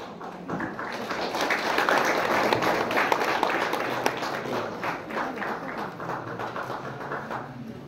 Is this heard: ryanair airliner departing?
no